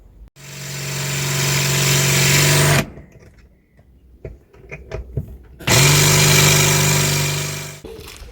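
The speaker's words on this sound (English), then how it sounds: "Gonna have to drill them out." A power drill bores out old fittings on a 1993 Pennine Aztec trailer tent, two long steady whining runs at close range separated by a pause filled with light clicks and handling noises.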